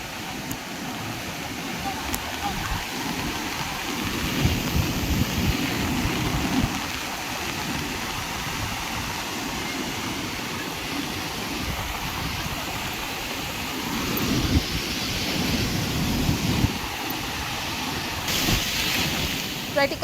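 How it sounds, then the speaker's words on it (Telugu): Sea waves surge against the eroded shore at Gedduru in Srikakulam, where fishing boats have been dragged up the beach during heavy rains; a continuous wash of surf rises and falls in broad swells, loud and close, with no talk over it. "సముద్రంలో అలలు తాకిడికి తీరం కోతకు గురైంది"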